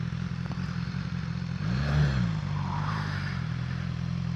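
A motorcycle pulls away in first gear, its steady engine drone rising briefly as it accelerates, then settling back to a constant nearby hum.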